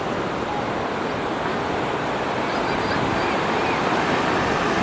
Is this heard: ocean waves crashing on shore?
yes